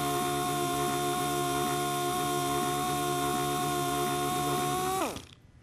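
A Sioux Signature series sander runs steadily at a loud, constant pitch with a fine rhythmic ripple, then is switched off and winds down quickly at the end.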